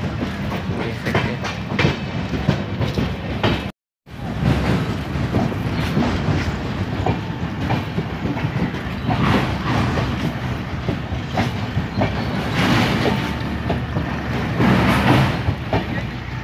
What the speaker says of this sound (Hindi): देख सकते हैं स्टेशन में हम लोग हैं, ट्रेन जा रहा है